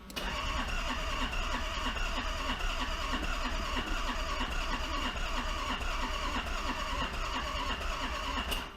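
A diesel car engine, a wrecked car being fitted with new diesel injectors, fires and runs with a loud, steady, rough clatter that carries through the whole stretch without a break.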